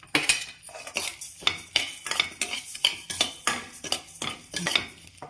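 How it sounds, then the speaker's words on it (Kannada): Poppy seeds, cashews and dry coconut dry-roasting in a pan, stirred with a metal spoon in quick repeated scraping strokes, about two per second, each a bright rasp with faint clinks, fairly close and quiet. "ಇದ್ರ ಜೊತೆ ಸ್ವಲ್ಪ ಗೋಡಂಬಿ ಹಾಕಿ ಹುರ್ಕೊಳ್ಳೋಣ"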